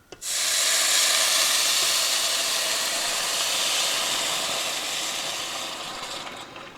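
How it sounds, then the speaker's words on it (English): A loud burst of steam hissing as chicken broth hits a hot pan, starting abruptly and then slowly fading over several seconds. "it's going to be a big old steam puff here"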